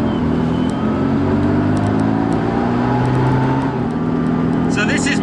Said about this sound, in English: So this is my first ever drive of an original Mini